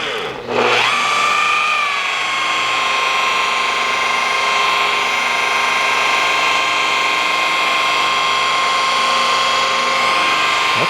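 A polishing wheel loaded with compound buffs a degreased part. After a brief pause the motor spins up into a loud, steady whine that holds without a break to the end.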